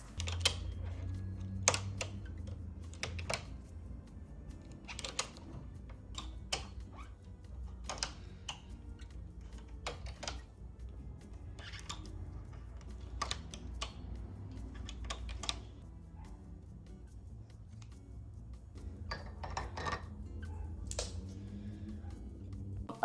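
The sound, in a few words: casting off stitches on a knitting machine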